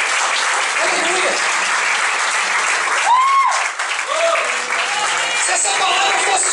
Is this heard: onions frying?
no